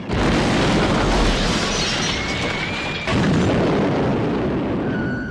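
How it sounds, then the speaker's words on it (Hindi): Bombing sound effect for Pakistani jets striking Indian positions in the 1965 war: continuous heavy roaring blasts, loud and dense, with a sharp fresh boom about midway and a faint whistling tone above. "पाकिस्तानी साइबर जेट्स ने भारतीय ठिकानों पर बमबारी शुरू कर दी"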